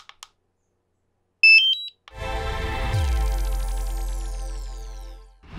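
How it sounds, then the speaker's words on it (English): A drone controller emits a few short, high electronic beeps, followed by a steady, rising and then fading tone that holds for several seconds; no voices. "why your drone controller is beeping"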